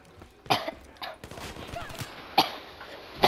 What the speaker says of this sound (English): I'm having a little cough.